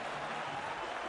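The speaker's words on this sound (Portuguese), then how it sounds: "Aplausos do torcedor do Palmeiras para Fernandão" Palmeiras supporters fill a football stadium with applause for Fernandão during a 2011 Brasileirão match against Ceará. The clapping forms a distant, even wash of crowd noise that holds steady for the whole moment.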